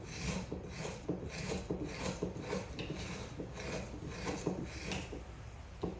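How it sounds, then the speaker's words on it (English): A spoon scrapes across the top of frozen peach sorbet in a Ninja Creami pint, making a steady rasping scrape in repeated close strokes with no talk. "We're just going to kind of scrape this."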